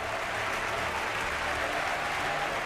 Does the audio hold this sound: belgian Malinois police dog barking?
no